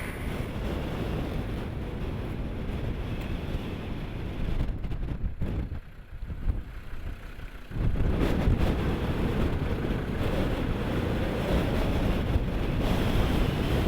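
Strong wind buffets the microphone over loud surf from a rough, stormy sea on the British coast, a steady broadband roar that briefly thins in the middle before surging back.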